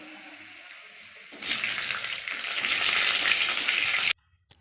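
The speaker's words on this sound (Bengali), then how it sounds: "এবার কড়াইতে সর্ষের তেল গরম করে তাতে সাদা জিরে ফোড়ন, পেঁয়াজ কুচি এবং টমেটো কুচি দিয়ে একটু হালকা ব্রাউন করে ভাজবো" Chopped onion and tomato hit hot mustard oil with cumin seeds and erupt into a loud, bright sizzle that swells and holds steady for a few seconds before cutting off abruptly. Only a quiet background hum comes before it, and no one speaks.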